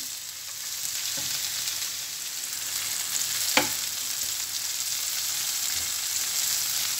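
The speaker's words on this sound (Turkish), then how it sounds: "Biberler de sotelendi." Peppers sauté in a pan for a beef kavurma, giving a steady, even sizzle and hiss at close range, with one sharp utensil tap partway through.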